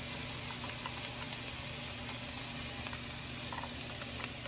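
Vegetables sizzle in canola oil in a large skillet, a steady dense hiss that holds at even loudness throughout with occasional small pops and crackles, close by and with no talk over it.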